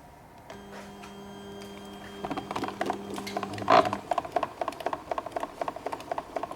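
A PrisMax dialysis machine in a neuro-intensive care unit loading a syringe: a steady mechanical hum with a tonal whine gives way to a run of rapid ratcheting clicks and one brief louder clack, close and without talk.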